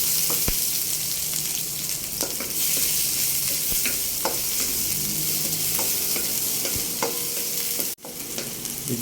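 Onion and garlic fry in oil for Filipino dinuguan, a steady loud sizzle with frequent scraping stir knocks throughout and one sharp clatter near the end.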